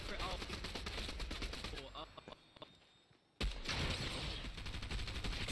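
Pistol shots in the video game Fortnite crack out in quick, dense bursts mixed with game sound, then drop away briefly before another loud volley bursts back in, with a player talking over it.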